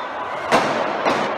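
Two sharp gunshots from a real firearm ring out during a shooting at a plaza, each a loud crack with a short echo about half a second apart, set against a busy noisy outdoor background.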